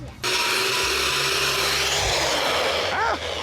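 A power drill bores into clay soil for a tree fort build, a steady loud whirring grind starting abruptly and holding for about three seconds outdoors, with a brief voice near the end.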